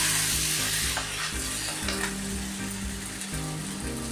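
Poha roti (flattened-rice flatbread) fries in oil on a pan over medium flame with a loud, dense, continuous sizzle heard up close, with a low hum under it.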